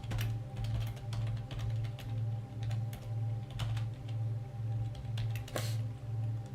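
Quick bursts of typing on a computer keyboard entering a search query, with clicks in short clusters and pauses between them over a steady low mechanical hum.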